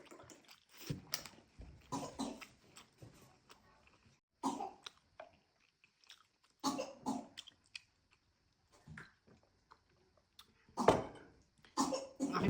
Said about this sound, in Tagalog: Ang aking bunso ay ubong-ubo pa.